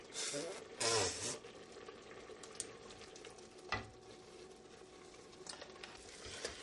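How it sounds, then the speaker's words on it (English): Flour being stirred into tender mushrooms and onions in a pot for cream of mushroom almond soup, with soft scraping and a faint sizzle and two louder clatters near the start and middle. "now I'm going to stir in 4 tablespoons of flour"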